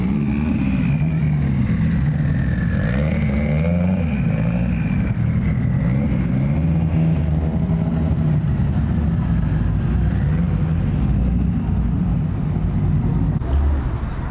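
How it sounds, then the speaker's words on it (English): A pair of Mitsubishi Evo cars on Hoosier tires rolls in at a TX2K car meet, their engines giving a steady, close, loud low rumble that swells slightly throughout. "Couple Evos rolling in on them Hoosier tires."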